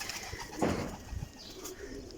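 Soft cooing of racing pigeons in a steady murmur against a busy outdoor background, with occasional fluttering.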